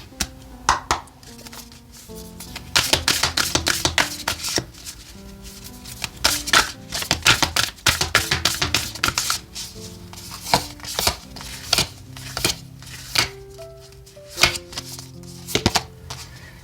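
Oracle cards for a tarot reading are shuffled by hand in quick bursts of crisp riffling and slapping, pausing briefly between rounds, close and alone without talk.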